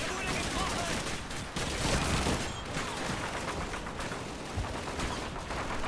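Machine gun fire in Call of Duty 2 at Pointe du Hoc rattles in a sustained, dense barrage, loud and close, with a thick wash of battlefield noise underneath.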